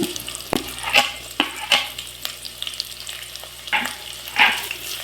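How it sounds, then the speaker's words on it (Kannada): Two medium onions fry on a low flame for vegetable pulao, giving a soft continuous sizzle broken by sharp spoon-and-pan clacks as they are stirred. "ನಾನಿವಾಗ ಇದಕ್ಕೆ ಕಟ್ ಮಾಡಿ ಇಟ್ಕೊಂಡಿರೋ 2 ಮೀಡಿಯಮ್ ಸೈಜ್ ಈರುಳ್ಳಿನ ಆ್ಯಡ್ ಮಾಡ್ಕೊಳ್ತಾ ಇದ್ದೀನಿ."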